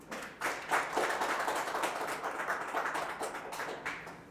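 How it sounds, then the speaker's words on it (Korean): A small crowd at a Korean election candidate's announcement press conference gives a brief, moderate round of clapping that welcomes him, quickly building and then thinning out. "이창근 예비후보자를 큰 박수로 맞이해 주시면 감사하겠습니다."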